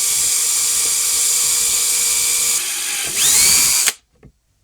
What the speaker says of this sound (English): I just need to drill 4 holes and use them to run the nylon bolts through.